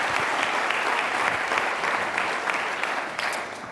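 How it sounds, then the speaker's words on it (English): Steady applause from a large audience at a policy conference keynote, a dense sustained clatter of many hands clapping with no voices over it. "That deserves an applause."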